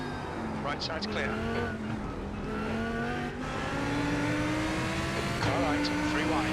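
A GT3 race car in a racing video game drones with a loud, steady engine note rising in pitch, another car passing close alongside, with a spotter's voice calling positions over it.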